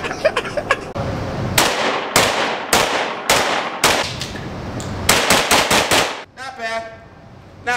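A Stribog SP9A1 Gen 2 9mm gun fires a loud string of sharp shots, some quick pairs and some spaced apart. Ringing echoes trail off after the last shot.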